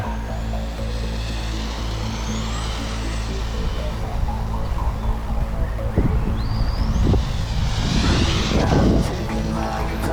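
A T4 radio-controlled car with 81-tooth spur gearing drives nearby under steady wind and outdoor noise, its motor whine rising in sweeping pitch bursts that grow louder and busier toward the end.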